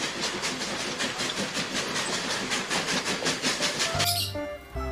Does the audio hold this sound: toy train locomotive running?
yes